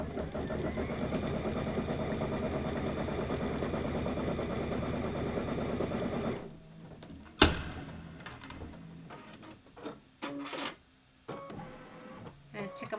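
A sewing machine stitches quilt borders with a steady, fast mechanical whirr for about six seconds, then stops, leaving scattered clicks and a voice talking.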